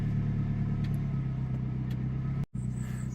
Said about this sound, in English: settles back to the idle as it should.